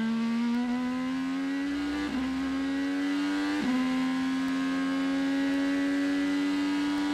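Graham Rahal's IndyCar race car at the 2018 IndyCar Grand Prix drones steadily through the turns with a high, sustained engine whine that briefly dips and recovers twice as it brakes and accelerates, with no talking.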